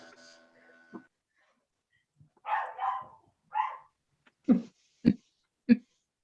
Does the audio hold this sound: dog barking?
yes